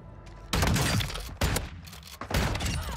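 Gunfire in a first-person shooter, several loud close bursts of rapid shots separated by short pauses, each burst sharp-edged and dense with echo.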